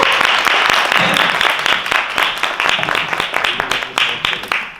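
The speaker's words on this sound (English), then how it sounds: "let's give him a warm round of applause" An audience applauds to welcome Anurag Kashyap on stage, with dense, loud clapping that stays steady and then thins slightly toward the end, with no clear talk over it.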